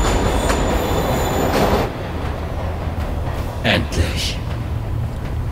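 A train at a platform in the Spider-Man video game, with loud rumbling rolling noise and high wheel squeal that ease after two seconds into a quieter hum with short metallic clanks.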